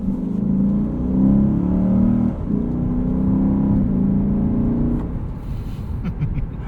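Engine of a 2023 Lexus IS 500 F Sport Performance heard from inside while accelerating, a loud, steady low rumble and whir that rises, dips briefly at a shift, then pulls on before easing off.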